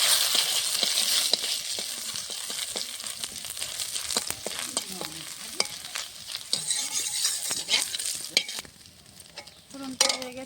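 Ginger hitting hot oil already crackling with whole panch phoron and halved dried red chillies, a steady close sizzle with scattered sharp pops and a few clinks of a stirring spoon, no voices.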